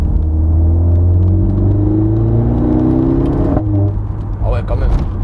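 A Mercedes GLA 45 S four-cylinder engine pulls under acceleration, a steady loud rumble with rising whir, with people talking inside the cabin over it.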